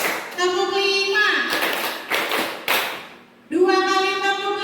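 A group claps out a short counted pattern in an Indonesian classroom-style session on positive school culture, with a few sharp claps in the middle of the clip and a voice talking before and after them.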